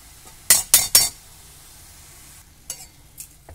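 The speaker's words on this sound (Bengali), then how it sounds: "হলুদ দিয়ে ভালো করে নাড়াচাড়া করে ভেজে নিলাম" Radish stirred and fried with turmeric powder in a pan: three quick, sharp scraping sizzles in a row, then a pause and a couple of fainter stirring scrapes, with no talking.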